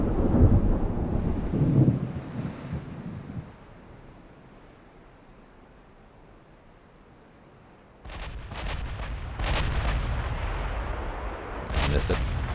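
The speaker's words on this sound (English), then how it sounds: "16-inch guns have already opened up." Heavy 16-inch naval guns booming in a stormy sea battle from a naval strategy game, a deep rumbling blast fading out, then roaring wind and rain with sharp cracks of further salvos.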